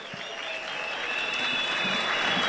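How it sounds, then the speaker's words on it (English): Applause from a church congregation at a memorial celebration for Archbishop Ezekiel Guti at the FIFMI national headquarters. It is a steady, dense wash of clapping that swells slightly and holds for a couple of seconds, with a faint tone ringing through. "A round of applause, a round of applause."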